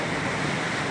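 Big waves crash against a treehouse, a dense, continuous roar of surf and rushing water that fills the whole moment, loud and close with no voices.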